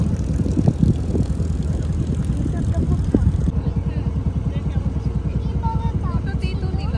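A boat engine chugs steadily on a river in the Sundarbans, a loud, continuous rhythmic throb with water washing alongside, close and unbroken throughout.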